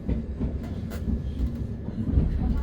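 Southern passenger train running between London Bridge and Caterham, heard from on board: a steady low rumble with rhythmic rattling and clatter of the carriage, close and continuous.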